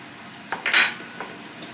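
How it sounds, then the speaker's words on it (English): Cutlery cutting into a poached egg on a plate gives a brief cluster of small metallic clinks and scrapes, close and crisp, with no talking. "I'm going to cut into one of them just to get a nice look"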